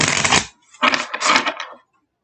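A deck of oracle cards being shuffled close up in two quick bursts of riffling, papery flutter, with a short pause between them and no talk.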